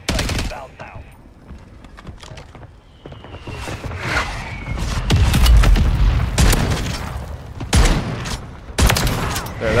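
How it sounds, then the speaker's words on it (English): Loud mortar strike explosions and a heavy gunfire barrage from a Call of Duty-style shooter match, repeated booms and bursts growing denser midway through, with game voices and player talk underneath. "Hostile mortar strike in the area."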